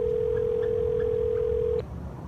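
A telephone ring tone heard from the caller's end: one steady, clear electronic tone held for nearly two seconds, then cut off, with no voices.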